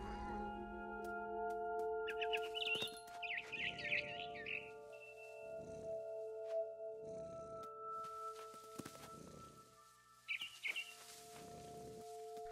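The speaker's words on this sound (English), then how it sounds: "Then I heard chirping outside my window." A barn swallow in the game What Remains of Edith Finch chirps in short bursts of bright, high twitters outside a window, separated by soft rhythmic thumps and quiet gaps.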